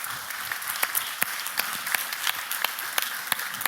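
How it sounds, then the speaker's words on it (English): Audience applause at a Dutch Design Week talk, a steady wash of many hands clapping with a few sharper, louder claps standing out at intervals, continuous and moderately loud throughout. "please give applause for the video"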